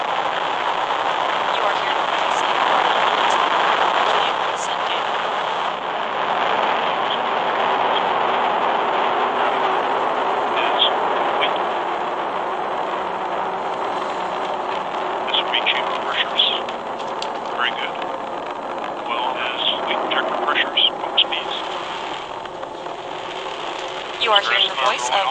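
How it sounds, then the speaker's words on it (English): A United Launch Alliance Atlas V rocket lifts off carrying a space-based infrared missile warning satellite, producing a sustained broadband roar that holds steady, with radio chatter and voices over it. "We have ignition and liftoff of the United Launch Alliance Atlas V rocket"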